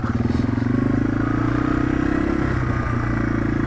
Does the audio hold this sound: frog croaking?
no